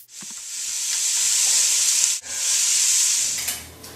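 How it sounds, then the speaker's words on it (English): Garlic, shallots, onions, celery and carrots sweat in a soup pot, giving a steady, fairly loud hissing sizzle that breaks off briefly midway and then resumes. "So I have my aromatics sweating in the pot back there."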